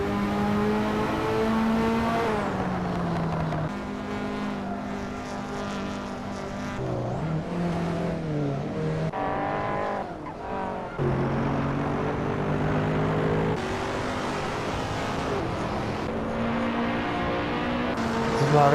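Racing cars in Hot Wheels: Universe Zero, engines droning and revving continuously with shifting pitch as cars accelerate and pass, loud throughout.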